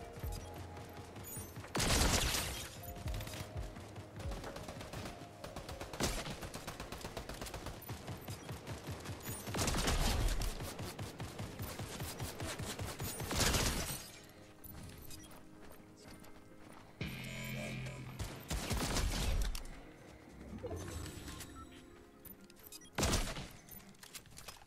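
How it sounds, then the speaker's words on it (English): Gunfire in Fortnite comes in several loud, separate bursts of rapid shots spread across the stretch. Quieter in-game ambience fills the gaps between them. "Oh, you're shooting at me."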